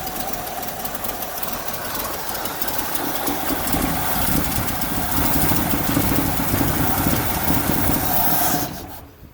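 A 1959 Ford tow truck engine runs near at hand with a rough, uneven idle that swells slightly midway, then dies away quickly near the end.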